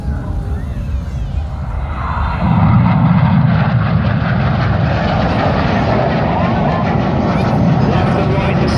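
Red Arrows jets roar overhead at an airshow, a loud, continuous engine rush that swells and holds steady, with an announcer talking over it.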